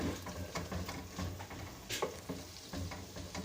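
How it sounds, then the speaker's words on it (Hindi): Steady sizzling of spice paste with garlic paste frying in a pan for kofta curry, with occasional scraping stirs and soft clatter, no voices. "फिर इसको दोबारा से मसाले को फ्राई करना शुरू करेंगे"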